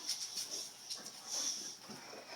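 A Boxer dog whimpers in soft, high, broken whines, several short cries in a row close by in a quiet room, with no talking over them.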